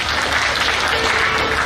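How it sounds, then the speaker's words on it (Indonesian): A crowd at a Malaysian political rally in Selangor applauds, loud and continuous, with dense overlapping clapping at an even level throughout. "Sekali lagi tepukan paling gemuruh untuk yang berbahagia, Datuk Lukmano Adam"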